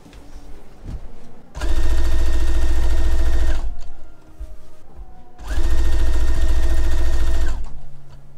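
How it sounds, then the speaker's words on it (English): A sewing machine topstitches a seam in two loud sustained runs of fast, even stitching, separated by a brief pause with quieter handling sounds. "Turn it to the pink side and top stitch it down."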